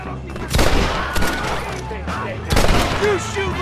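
Gunfire in a Red Dead Redemption shootout, dense overlapping shots and booms throughout, with heavier blasts at two points, under shouting voices.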